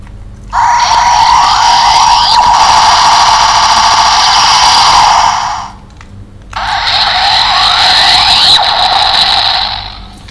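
A DX Patstriker toy, Gokaiger version, plays its electronic siren effect loudly in two long wailing bursts, the first about five seconds and the second about four, separated by a brief pause.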